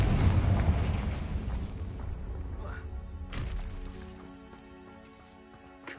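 Hogwarts Legacy's Confringo fire spell erupts in a heavy booming blast that rolls off into a long decaying rumble. A couple of sharper cracks ring out partway through, over a fading tail.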